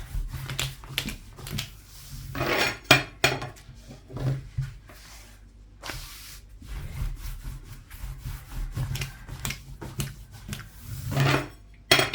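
A wooden rolling pin rolls and thumps over thin börek pastry dough on a board, repeated back-and-forth strokes with soft knocks, close up.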